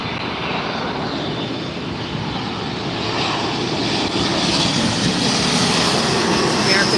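American Airlines jet airliner at LAX airport, a steady loud broadband engine roar slowly building over several seconds, heard from nearby with a faint voice beneath.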